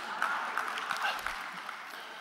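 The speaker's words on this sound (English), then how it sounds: "I thought I'd get a little cheap applause from that." Light, scattered applause from a keynote audience at a Slow Money conference, soft and fairly distant, a brief patter of claps with no voice over it.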